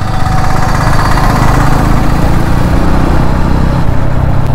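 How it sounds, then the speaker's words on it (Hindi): A loud, steady motorcycle engine drone while riding, constant and close with a rough low rumble and no pauses. "गाइस बाइक का आवाज़ कैसा जा रहा है?"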